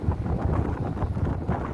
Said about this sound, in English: You'll have to excuse the wind.